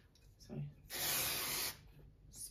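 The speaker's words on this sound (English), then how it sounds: "I worried using the spray whether it would damage the paintwork, but it doesn't." Clear sealant spray from an aerosol can is applied to painted furniture in one steady, loud hiss of about a second, close to the mic, with quieter handling noises before and after.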